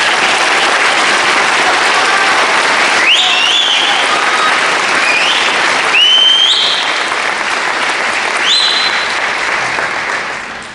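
An audience at a 2024 high school graduation ceremony applauds the superintendent's honor roll graduates with a loud, sustained wash of clapping that lasts about ten seconds and eases slightly at the very end.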